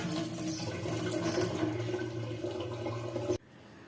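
Tap water pours steadily into a pot of boiled eggs to refill it, a close, rushing splash for about three seconds before cutting off to quiet.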